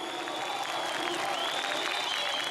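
A large crowd at a rally during the Arab Spring applauds steadily, a dense wash of clapping and cheering that stays loud and even throughout, with no single voice standing out.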